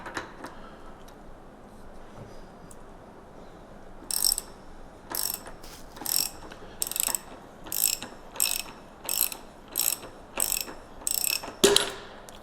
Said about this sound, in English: We'll want to grab our 25mm socket and our wrench.